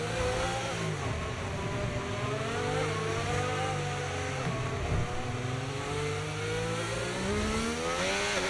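Formula 1 car engine in a racing video game, a loud continuous high-pitched whine that rises and falls through gear changes, revving steadily for several seconds with no talk over it.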